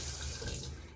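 Water running from a tap in a distressed property's plumbing, a soft steady hiss of flow heard faintly and alone for a moment.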